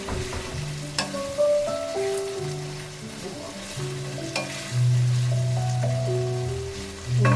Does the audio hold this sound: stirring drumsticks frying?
yes